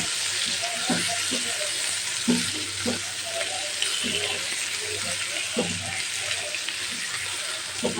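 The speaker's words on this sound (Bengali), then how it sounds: "তার সাথে আমি টমেটো কুচি নিয়ে দিচ্ছি" Chopped tomatoes, two of them, sizzle steadily in a hot pan for a fish and potato curry, with a constant frying hiss and occasional soft stirring scrapes and taps, close and moderately loud.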